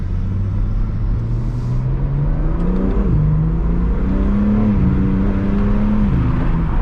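A 2021 BMW G80 M3 Competition with a 3-litre twin-turbo engine pulls hard in sport mode with full manual control, its loud, steady rumble climbing in pitch through several gear changes, heard close from inside the cabin.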